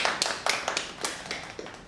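Scattered applause from a small audience at an academic enhancement programme event in a hotel hall, a few irregular claps over a couple of seconds, fairly close and sparse rather than a full ovation.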